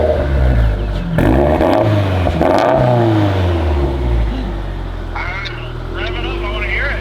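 Turbocharged Toyota FR-S, long abandoned and on its first start, revving nearby in loud rising and falling bursts, with voices talking over the engine throughout.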